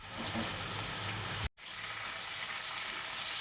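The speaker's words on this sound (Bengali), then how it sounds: "এবার এর মধ্যে দিয়ে দেবো কুচিয়ে রাখা টমেটো।" Chopped tomato added to browned onions in a pan gives a loud, steady frying sizzle close up, broken by one brief dropout midway before the hiss resumes.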